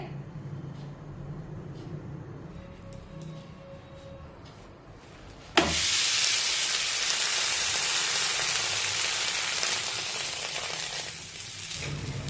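Bajra flour thalipeeth sizzling on a hot tawa in a home kitchen, a sudden loud hiss bursting in near the midpoint and holding as a steady, close crackle; a quieter low hum fills the first half.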